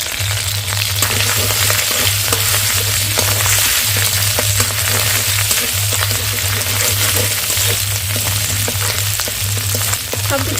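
Ginger, green chilli and fennel paste with a pinch of turmeric fry in hot oil in a pan, giving a loud, dense, continuous crackling sizzle, close up, over a low steady hum, with no voices.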